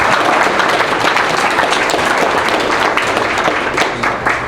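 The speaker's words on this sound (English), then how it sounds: "let's give them a round of applause for the great one" Audience applause fills a baseball awards ceremony, steady and dense clapping at close range from start to finish with no voices over it.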